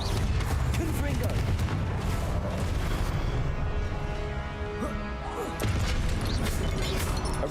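Confringo blasting spell explosions in Hogwarts Legacy combat, dense loud crashing booms layered continuously over busy battle noise, with a brief dip before another heavy burst.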